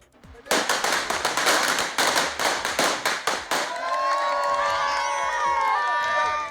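Villagers in Kerala welcome forest officials back from a tiger mission with a burst of dense, loud clapping and crowd noise. Sustained cheering and raised voices follow.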